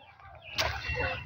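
Geese on a farm honking and clucking close by, with a sudden burst of flapping wings partway through, over a low steady background rumble.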